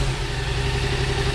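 A 2020 Yamaha FZ/MT-07 motorcycle engine idles close by, a steady low rumbling throb over a brief stretch with no voices.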